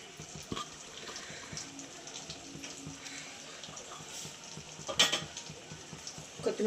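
A spoon stirs Telugu fish curry (chepala pulusu) in a pot, giving faint wet scraping and sloshing with a soft simmering bubble underneath and a sharper clink near the end.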